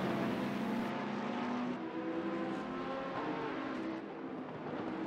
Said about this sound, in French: Et la Ferrari ici qui se bat en 10 dixième position pour d'un côté prendre le dessus sur la Porsche de Thibaut Cominé